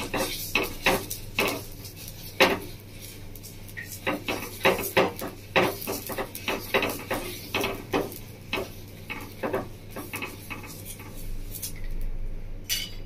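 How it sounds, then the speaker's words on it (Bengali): An eggplant stem dipped in ghee is rubbed and scraped around a hot tawa while making pati shapta pitha, producing a series of quick close scraping and clinking strokes over a faint sizzle. "আমি ঘিয়ের মধ্যে চুবিয়ে এবার এই বোটাটা দিয়ে ভালো করে একটু তাওয়াটা এভাবে ঘিটা গুলিয়ে নেব"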